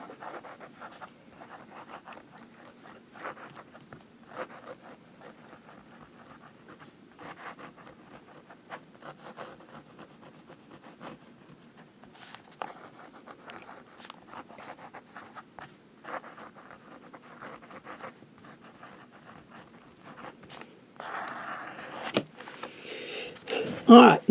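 A Parker fountain pen with a fine nib scratches across paper in light, steady strokes with small pauses, growing louder and busier near the end.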